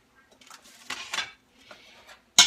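Chopped celery is tipped into a pot for cabbage soup, with a few soft scraping and tumbling sounds and a sharp metallic clink at the end, close and alone.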